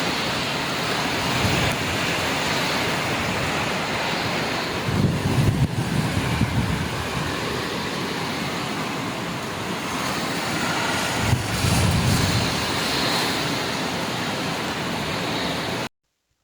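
Typhoon Kristine's wind and rain roar steadily and loudly in a dense, unbroken rush with heavier buffeting gusts near the middle and end, and no voices.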